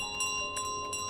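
A bell rings in the Untitled Goose Game, a faint steady shimmering tone with soft pulsing swells over about a second, heard alone.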